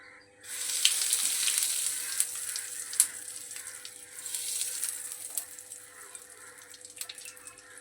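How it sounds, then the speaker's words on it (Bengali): Asafoetida sizzles in hot oil with whole cumin seeds, tempering for a pea-filled kachori; a steady, fairly close hiss of frying runs throughout, with small crackles and pops. "হিংটা ভাজা হয়ে গেছে, দেখতেই পাচ্ছে"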